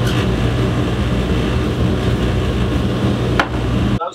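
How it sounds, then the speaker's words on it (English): A jewelry ring held against a spinning lap wheel on a polishing machine gives a loud, steady whirring grind that runs unbroken, with one brief sharper scrape near the end before it cuts off. "let me put this on the lap wheel first"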